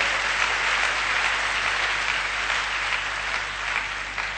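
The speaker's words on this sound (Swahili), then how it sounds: "Est-ce qu'on peut acclamer la parole? Tupike makofi juu ya neno la Bwana Mungu." A church congregation claps steadily through a French and Swahili sermon, a dense, even wash of applause that stays loud from start to finish with no voices rising above it.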